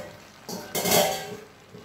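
A spoon stirs crushed coconut and green chilli into Kerala avial in a pot, giving short scraping clatters with a louder, rougher burst in the middle, close and with no voices.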